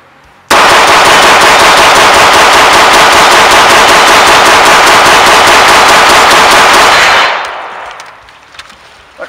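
A Stribog SP9A3 Short pistol-calibre carbine fires a full factory magazine as one loud, fast, unbroken burst of automatic fire lasting about seven seconds on a steel shooting range. It then cuts off into ringing quiet.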